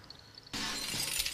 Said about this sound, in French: Ça a pété du coup la vitre.